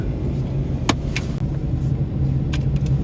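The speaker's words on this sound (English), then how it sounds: "Now that is a police truck." Police truck rolling past on a street in Bend, a steady close engine rumble and tire roar with a few sharp clicks and clanks on top.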